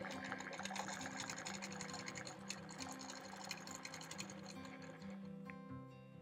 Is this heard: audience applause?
no